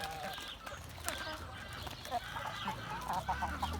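Backyard chickens cluck and chatter steadily while pecking at fresh cabbage leaves picked from the plant, a busy flock heard close up with overlapping calls and no talking.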